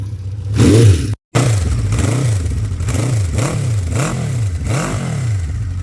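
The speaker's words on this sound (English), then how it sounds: "Typical Honda quality, fires up, runs super smooth." A 1976 Honda CB550 K Four motorcycle engine with stock exhaust idles and revs up and down in repeated rhythmic swells, loud and close, with a brief cut near the start.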